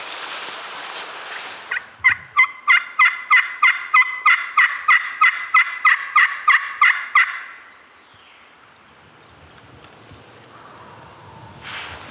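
A wild turkey calls out in rugged wooded terrain, giving about fifteen evenly spaced, loud pulses over five seconds. A quiet outdoor background with faint rustling follows.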